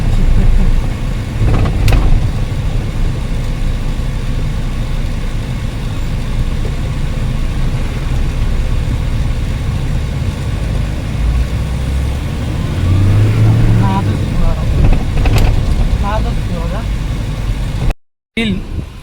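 A black Mahindra Scorpio SUV's engine rumbles low and steady from inside the cabin while driving, with occasional swells of revving, under people talking throughout.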